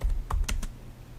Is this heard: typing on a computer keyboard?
yes